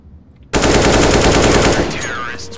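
Sustained automatic gunfire in the video game CS:GO, a loud rapid burst that starts abruptly and holds steady before fading slightly, with no talk over it.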